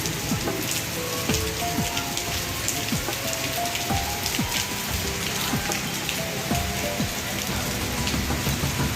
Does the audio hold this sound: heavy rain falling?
yes